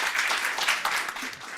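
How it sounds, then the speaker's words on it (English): A brief burst of steady audience clapping greets a seminar panel, a moderate, even patter of many hands that starts to fade near the end. "Please give this panel a round of applause"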